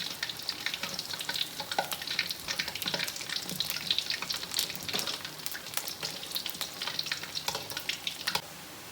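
Kuih keria dough frying in oil over low heat, a steady dense sizzle and crackle with frequent small pops, close and continuous, no voices.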